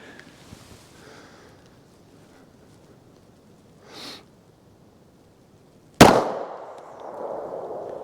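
A single loud, sharp .380 pistol shot fired over a chronograph rings out close by with a decaying tail, after a fainter, brief pop earlier; no talking.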